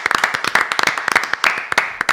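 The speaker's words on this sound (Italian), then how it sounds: "Facciamo un applauso a tutti i nostri ospiti." An audience at a podcast recording claps for the guests, a dense burst of close, crisp handclaps with uneven rhythm over a couple of seconds.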